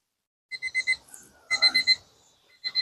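An electronic device gives clusters of high, quick beeps, three groups of four or five tones with short pauses between, fairly faint.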